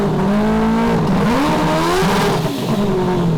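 A loud four-rotor rotary engine revs on a dyno, held near 3,000 RPM, its pitch climbing and dipping through quick throttle blips, with a constant mechanical roar underneath.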